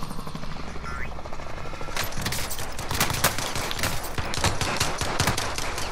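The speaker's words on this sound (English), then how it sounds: "He killed me with a pistol." Gunfire rattles through a video game firefight, including pistol shots, as dense overlapping bursts that stay loud and busy throughout, with a helicopter-like drone and a voice speaking briefly underneath.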